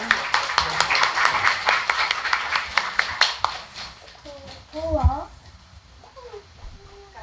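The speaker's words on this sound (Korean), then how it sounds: "앞으로 나오실 때 우리 박수로 환영하겠습니다." A church congregation claps to welcome a speaker to the front at an Easter migrant church service, a burst of scattered hand claps over the first three seconds that fades into murmuring voices and a low thump.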